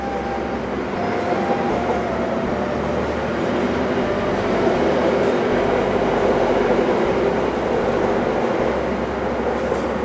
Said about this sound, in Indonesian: Oh, ini ada kereta api Sembrani dari Gambir tujuan akhir Surabaya Pasar Turi.